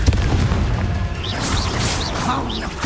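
A Confringo explosive spell blasts in Hogwarts Legacy, a booming burst layered with crackling magical effects and whooshing tones in the middle of combat noise.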